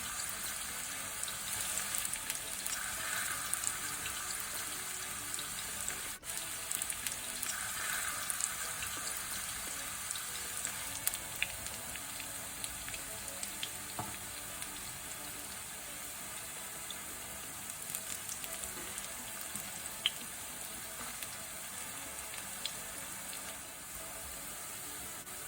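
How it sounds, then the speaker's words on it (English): Ripe plantains frying in a little oil give a steady, fairly quiet hiss and sizzle with faint crackles, continuous and unbroken, no talking. "So now I'll add the plantains to the oil, and these should take about 3 to 4 minutes to complete frying."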